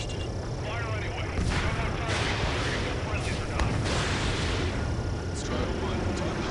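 Gunfire and explosions in the combat flight game Ace Combat, rumbling heavy blasts and bursts layered continuously under engine noise and radio chatter voices.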